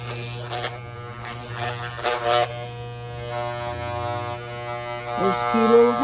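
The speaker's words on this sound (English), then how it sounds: "These old trimmers are about wore out." Worn-out old electric hair trimmers buzz steadily near the ear while cutting a short haircut at home, a constant close drone with brief clicks and someone speaking over it.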